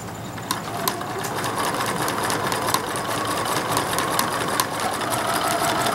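Sewing machine stitching the neck of a reversible American Girl doll vest, a steady close mechanical whir with faint rapid ticking that runs continuously, heard alone.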